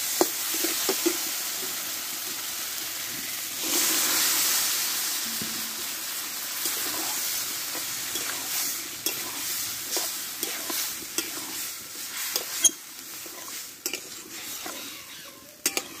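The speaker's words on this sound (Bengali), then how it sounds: "এবার সেদ্ধ করা আলু আর কাবলি ছোলাটা আমি এতে ঢেলে দেবো।" Boiled potatoes and chickpeas tipped into frying masala and stirred, a continuous close sizzle with frequent spoon scrapes and clanks on the pan, growing busier toward the end.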